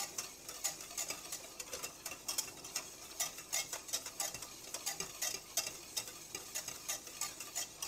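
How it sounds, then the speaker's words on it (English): Thickening butterscotch pie filling stirred in a pot, a quick regular rhythm of soft scraping and tapping strokes from a utensil against the pot, close and fairly quiet, continuing steadily throughout. "Remember, stir, stir, stir."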